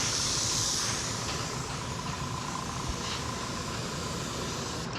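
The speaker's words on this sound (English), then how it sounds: "the airbrush even atomizes it even further" Steady, close hiss of an airbrush spraying paint during a touch-up on a 1972 Dodge Challenger restoration, an unbroken airy spray that holds at constant loudness and cuts off at the very end.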